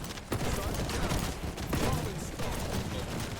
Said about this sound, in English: Like she's shooting at me.